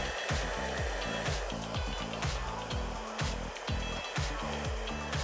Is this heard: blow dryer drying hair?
yes